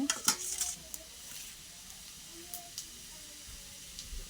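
A ground paste of green and dry chillies fries in a pan with a low hissing sizzle, opening with a burst of clattering stirring and followed by occasional light scrapes.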